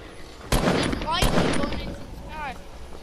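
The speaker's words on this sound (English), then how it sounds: "I'm gonna shoot at you." Two sharp, loud shots crack in Fortnite, echoing briefly, with players talking over and between them.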